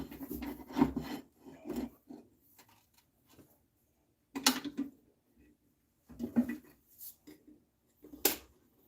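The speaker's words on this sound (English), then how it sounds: "One more sweepy cut up the side." A wood lathe gouge takes sweeping cuts along the side of a figured maple turning, giving bursts of close, raspy scraping separated by quiet gaps.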